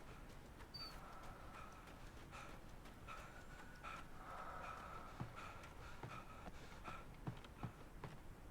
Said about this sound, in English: there's that breathing again